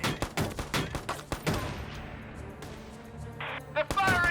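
Rapid rattling bursts of gunfire from the video game Valkyria Chronicles 4, a loud close fusillade of sharp repeated shots that fades into a rumbling tail, followed by brief interface blips and more firing, with voices calling out over it.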